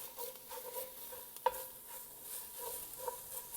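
Minced garlic being stirred into vegetables sauteing in a pan for cabbage rolls, giving a faint steady sizzle with soft scraping stir strokes and one sharper clink of the utensil partway through.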